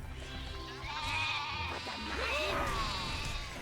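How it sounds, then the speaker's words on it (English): Sheep in the video game Overlord bleat in a couple of wavering calls against a steady game background hum, moderately loud and close. "I think more sheep spawn here if you do steal the food anyway."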